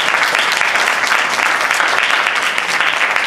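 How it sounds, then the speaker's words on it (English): Loud, steady applause from a keynote audience, a dense continuous roar of many hands clapping with no letup throughout. "let's give you guys a round of applause"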